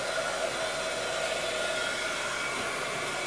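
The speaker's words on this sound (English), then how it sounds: "I'm just using my heat gun." A heat gun blows steadily while drying coffee-dyed paper for a junk journal, giving a constant, loud airy roar with a faint whine and no variation.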